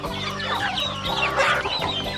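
Native chickens cluck busily near their coop on a rural farm. The clucking is close, dense and continuous, with several birds overlapping.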